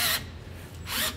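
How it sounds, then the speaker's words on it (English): Power drill driving the adjustment on a ProPride 3P weight distribution hitch for a 2018 Heartland trailer, two short close whirring bursts separated by a brief pause. "so a drill works really nice"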